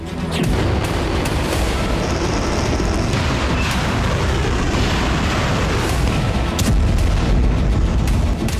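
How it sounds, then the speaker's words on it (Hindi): Explosions from a Russian missile and drone strike on Ukrainian cities, heavy booming blasts over a continuous loud rumble, with sharp impacts near the start and a louder surge toward the end. "रूस ने करीब 230 ड्रोन दागे, वहीं 10 से ज्यादा मिसाइल हमले किए"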